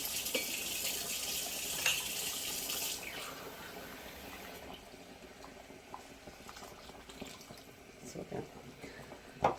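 Water is poured into a pot of meat and potato curry, a bright rushing splash for the first few seconds that settles into a soft low simmer with faint clinks.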